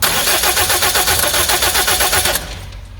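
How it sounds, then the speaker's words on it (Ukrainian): A car engine cranks on its starter with a steady rapid rhythmic churn for over two seconds, loud and close, without catching, then cuts off into a low hum. "Спробуємо то завести. Ну, стартер принаймні у нас цілий."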